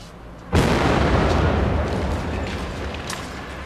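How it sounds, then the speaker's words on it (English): A single sudden explosive boom from a controlled explosion erupts after a brief quiet, then a long rumbling roar slowly fades away. "Later they located it and conducted a controlled explosion."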